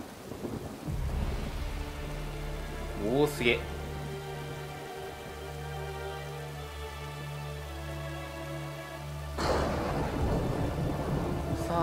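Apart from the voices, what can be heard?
rain and thunder in the video game Uncharted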